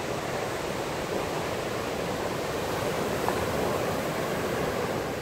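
Ocean surf at La Jolla, San Diego, California rolls in as a constant broad roar of breaking water, steady and fairly loud with no talk over it.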